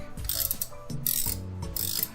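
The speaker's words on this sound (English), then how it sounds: "here's the sound of the click" Rapid mechanical clicking of a clock fusee's ratchet click, a steady run of close, crisp clicks with a brief pause midway, no voices.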